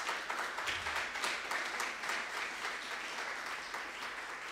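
Church congregation applauding after the preacher's call to acclaim the Lord, a burst of many hands clapping that fades slightly over several seconds, alone without speech.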